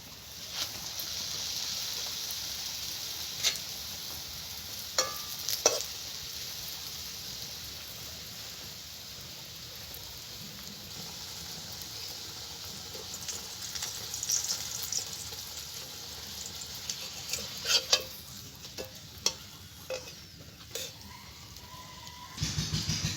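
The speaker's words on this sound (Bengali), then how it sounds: "তেল গরম হয়ে গেছে। এবার আমি পরোটাগুলো ভেজে নেব।" Egg parathas frying in hot white oil in a wok: a soft, continuous sizzle with scattered light clicks and scrapes, fairly quiet and close, with no talking.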